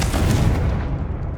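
A Confringo blasting spell from the Hogwarts Legacy video game detonates as a loud, booming explosion with a dense low rumble that fades over about a second, with no talking.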